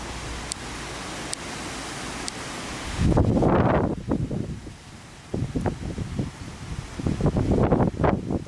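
Gusty wind before a storm roars across the microphone in loud broadband waves, rising sharply after a steady hiss, dropping briefly, then surging again with rustling bursts.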